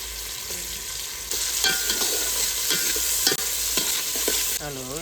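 Onions frying in oil in a pan, giving a continuous close sizzle broken by repeated scraping stirring strokes, a brief dip midway and a short tonal chirp at the end, with no speech.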